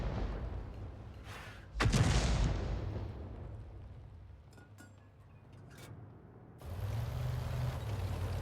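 A 105 mm leFH18B2 artillery shell lands in a video game, giving a single loud, rumbling boom that slowly fades. A second, lower rumble rises near the end.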